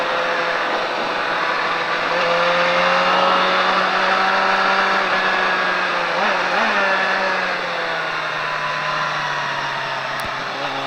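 A car on a track during a driving lesson gives a loud, close, steady engine drone with a slight dip partway through and no voices.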